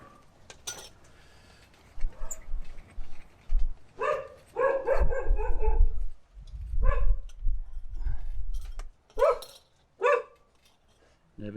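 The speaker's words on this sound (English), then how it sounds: "Neighbour's dog." A neighbour's dog barks in repeated short bursts and volleys from a nearby yard, loud and clear, with gaps between rounds and faint clinking in the background.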